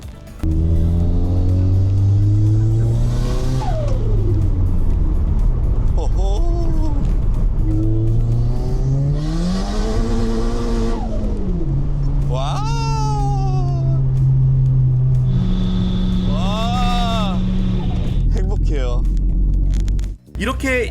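Tuned Hyundai Genesis Coupe engine revving and pulling through gears, a loud droning note that rises and falls repeatedly, heard from inside the car with voices speaking over it.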